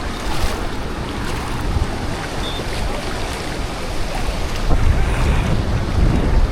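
Ocean surf washes continuously at Nai Harn Beach, Phuket, with wind buffeting the microphone, a broad rushing noise that swells slightly toward the end.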